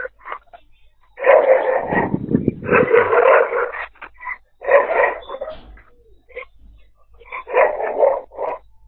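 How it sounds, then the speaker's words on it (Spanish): A dog barks in several loud, close bursts, spaced between short quiet gaps, with some whining in between. "Ese perro está con todo, ¿eh?"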